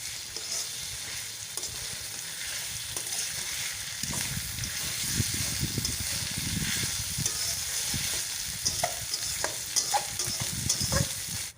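Spice masala with chopped coriander leaves being fried in oil and stirred in a pot, a continuous soft sizzle with a hiss underneath and intermittent scraping and clinking strokes that grow busier midway, close and fairly quiet.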